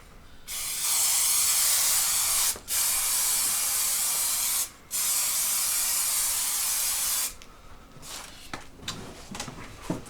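Aerosol adhesive sprayed in three long hissing bursts onto a 2001 Subaru WRX headliner, with brief pauses between passes, then quieter handling sounds.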